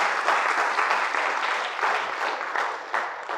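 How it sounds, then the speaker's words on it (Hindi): An audience at a career counseling seminar for children breaks into loud, dense applause that holds steady for a few seconds, with no talking over it. "पहले तो जोरदार तालियां"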